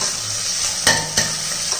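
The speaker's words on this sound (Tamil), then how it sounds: "சீரகம் இஞ்சி பூண்டு பச்சை மிளகாய் இதை அப்படியே இதில் போட்டுருவோம். இதை லைட்டாக வதக்கிடுவோம்." Cumin, ginger, garlic and green chili sauté in hot ghee with a steady close sizzle, broken by two sharp clanks of a utensil against the pan and no talk.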